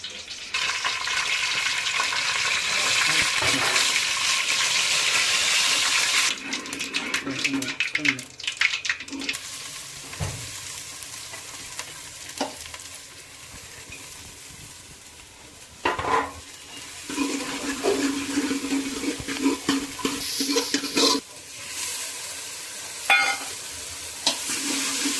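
Vegetable curry sizzles and fries loudly in a pan with cumin while a spoon stirs and scrapes it in bursts, close and busy, with brief quieter pauses.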